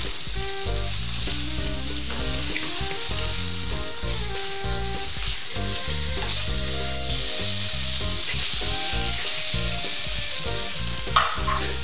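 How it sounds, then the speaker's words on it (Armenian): Meat sizzles and crackles in a hot pan as it fries and is turned quickly over high heat, with steady loud frying noise and occasional clatter, no voices. "եթե մենք զգում ենք, որ դեռ չի տապակվել, ապա արագ-արագ ենք շրջում"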